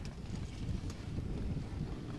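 Steady wind buffets the microphone beside a lake from a boat house as Cyclone Fengal approaches, a continuous low rumbling gust with no speech.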